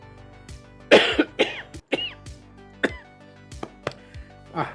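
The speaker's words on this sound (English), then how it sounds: "Bad cough keeps coming back." Repeated harsh coughs from a recurring bad cough come in a ragged series, close and loud, with short gaps between bursts and no talking.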